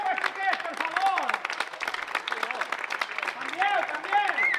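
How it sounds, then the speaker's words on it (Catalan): An outdoor crowd claps for child players at a street raspall pelota exhibition in Guardamar de la Safor, scattered clapping mixed with lively overlapping voices and shouting children. "un aplaudiment per Xiquets, per favor"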